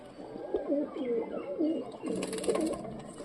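A Panjabi pigeon coos in a series of close, wavering low calls, repeating several times with a faint rustle near the end.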